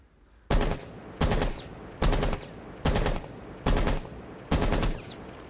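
Six evenly spaced bursts of rapid automatic gunfire from a compensator-fitted weapon in Rainbow Six Siege, each short volley sharp and loud, separated by brief pauses with no speech.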